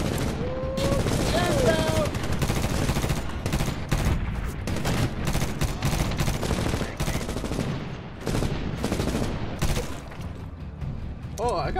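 Heavy automatic gunfire in the Medal of Honor video game, with sustained machine-gun bursts and scattered single shots close and loud throughout, and voices talking now and then over the shooting.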